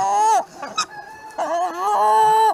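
Chickens and roosters loudly complaining while waiting for food, with drawn-out nasal crowing cries, a brief cluck between them and a long squawk close by.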